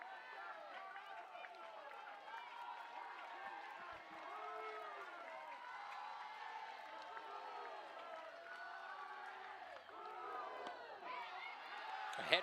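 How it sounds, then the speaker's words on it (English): Baseball stadium crowd with Charlotte batting at home plate, a steady dense roar of cheering and voices that holds loud throughout, with a sharper swell near the end. "And the crowd is on their feet, ready for this moment"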